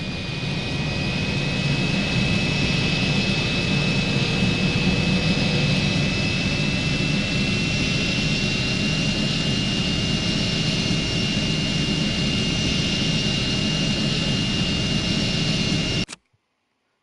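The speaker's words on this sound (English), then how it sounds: "Move the throttle lever to the green zone for optimal taxiing." Airplane engine droning steadily while taxiing in the video game Airplane Flight Simulator Evo, a loud continuous jet roar with a high whine running unbroken throughout before cutting off abruptly at the end.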